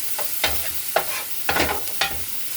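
Chopped cheese sandwich filling frying on a hot surface, a constant sizzle punctuated by several distinct scraping stirs at uneven intervals.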